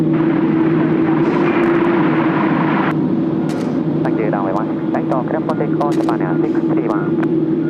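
A Japan Air plane taking off from runway 16R at Haneda, a loud, steady jet roar heard close up throughout, with someone talking over it.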